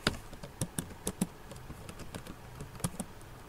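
Quick keystrokes on a computer keyboard while typing a search, a run of close, crisp clicks with uneven spacing and brief pauses, no voices.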